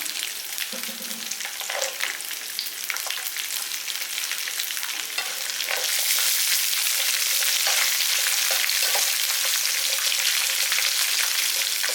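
Spice powder frying in hot oil for an instant chutney, a steady dense sizzle with scattered stirring scrapes that grows louder and brighter halfway through, with no voices.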